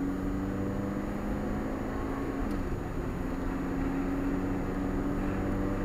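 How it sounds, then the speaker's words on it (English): A 1991 Honda Accord's small four-cylinder engine hums steadily at around 3,000 RPM, a loud sustained drone from inside the car with no speech over it. "It's such a nice engine just to rev out."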